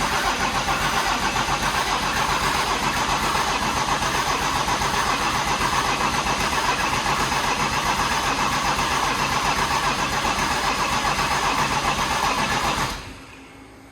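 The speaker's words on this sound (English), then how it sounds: "let's do one more round of cranking the fuel pump off" OM606 turbo diesel engine in a Datsun 240Z cranking over with the fuel pump off, a steady, loud, rhythmic churning of the starter that runs for about thirteen seconds, then cuts off abruptly.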